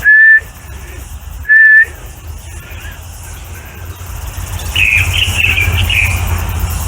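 Two loud, sustained recall whistle blasts for a working dog sound in quick succession, followed by a softer wavering whistle over a low outdoor background rumble.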